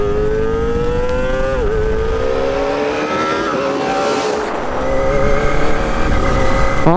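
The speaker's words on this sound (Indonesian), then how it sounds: "Datang juga tuh Ninja hijau dengan suara khasnya 4 silinder." A green Kawasaki Ninja ZX-25R four-cylinder motorcycle arrives with a high, rising engine whine that climbs through the gears and builds louder as it approaches, heard alone without voices.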